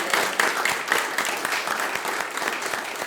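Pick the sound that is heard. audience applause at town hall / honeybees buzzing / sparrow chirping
audience applause at town hall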